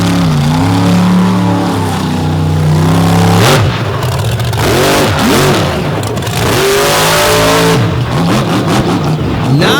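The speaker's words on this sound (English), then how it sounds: "The 557 cubic inch Chevy big block built by Kevin Stauffer." A monster truck powered by a 557 cubic inch Chevy big block engine revs loudly and continuously, its pitch sweeping up and down with throttle bursts and brief drops.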